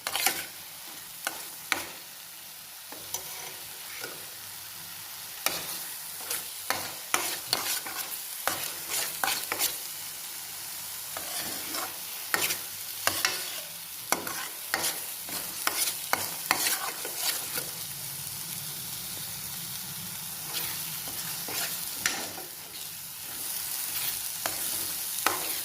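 A spoon stirs paneer masala gravy in a pan over medium heat, scraping repeatedly against the metal in irregular strokes over a soft, steady sizzle, with no talking.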